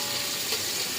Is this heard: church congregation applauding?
no